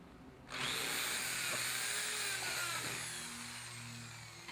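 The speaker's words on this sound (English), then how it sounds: "When drilling plexiglass, go slow, allowing your drill bit to do the work." A power drill whirs steadily and loudly after a brief quiet start, its high-pitched grinding whine boring slowly through plexiglass without pause.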